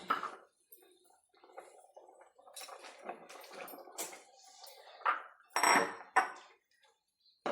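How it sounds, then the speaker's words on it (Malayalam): Bitter gourd tumbles into a pan of boiling ground spice paste with metallic clatter, followed by scraping and clinking of a spoon stirring against the pot. "നമ്മുടെ അരപ്പ് തിളച്ച് നമുക്കിനി പാവയ്ക്ക അങ്ങോട്ടിടാം"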